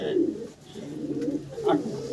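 A young pigeon, a new adult of a fancy pet breed, gives soft, rolling coos, two or three close-up low calls in quick succession with slight breathy gaps between.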